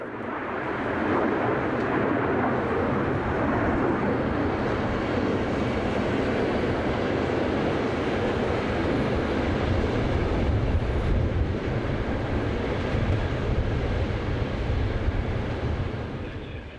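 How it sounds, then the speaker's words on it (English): Electric locomotive 110509 departs south with an all-station stopping train to Karlsruhe, a continuous loud rumble and roar of the passing train, sustained evenly throughout with a slight fade at the end. "110509 departs south with an all-station stopping train to Karlsruhe"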